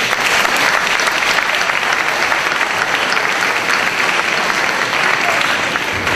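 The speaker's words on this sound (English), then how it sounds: "One more round of applause for all our award winners." Dense, loud applause from a packed room for award winners at a school board meeting, a steady unbroken wash of clapping that holds evenly from start to finish.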